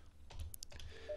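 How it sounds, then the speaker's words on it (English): Keypad tones and button presses as an extension is dialed on an OfficeServ desk telephone, a quick cluster of short beeps and clicks followed by a steady tone, close and fairly quiet. "If, for argument's sake, you're dialing extension 209,"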